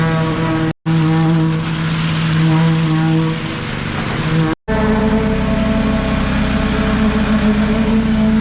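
A concrete poker vibrator works wall formwork on a bunker build, giving a loud, steady engine-driven drone with a strong low hum, broken by two brief cutouts as it is moved.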